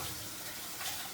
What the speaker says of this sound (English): Go ahead and rinse out this can.